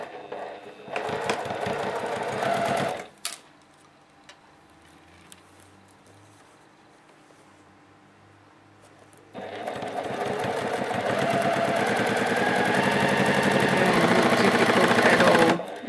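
A Juki TL-2010Q sewing machine stitches fabric with a shortened stitch length and no pins, running loud and close in a short burst, pausing, then humming steadily through a long continuous run.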